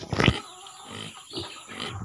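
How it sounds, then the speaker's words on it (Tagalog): A pig on a farm grunts and oinks close up, with a loud burst at the start followed by a few softer, rougher grunts spaced out over two seconds. "kinsa ning baboy?"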